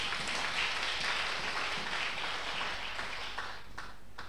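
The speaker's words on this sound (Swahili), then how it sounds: "Kanisa, mpigie Yesu makofi kama unanielewa" Church congregation clapping for Jesus, a steady roomful of applause that carries on throughout, moderately loud, then thins slightly near the end.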